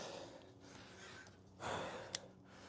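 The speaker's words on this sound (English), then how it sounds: "We're breathing heavy." Heavy breathing after a second set of 25 exercise reps, quiet breaths punctuated by one stronger exhale or sigh and a brief sharp catch near the end.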